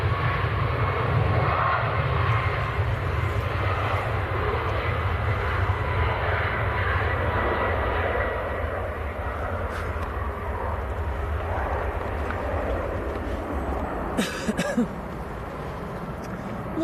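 A Malta Air airliner passes at an airport, its engines producing a loud, continuous roar that holds steady and slowly eases off, with a few faint clicks near the end.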